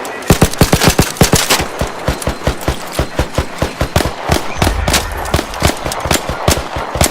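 Rapid video-game gunfire rattles at close range in steady bursts as the player shoots at a robot snitch during an Arc Raiders-style raid, with a low thump partway through.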